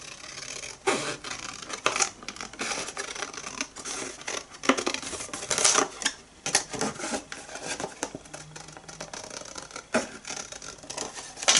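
Scissors snipping through paper for a Christmas advent carousel calendar, a steady run of close, crisp cuts and rustles that come in bursts over roughly twelve seconds, with no talking.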